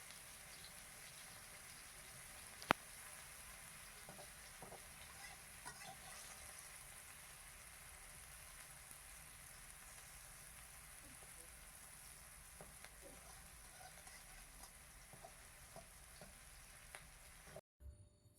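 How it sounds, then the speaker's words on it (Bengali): Boiled green banana frying in a pan, a steady low sizzle running continuously with a few faint clicks of a utensil and one sharp tap early on, with no talking. "ভেজে নিচ্ছি।"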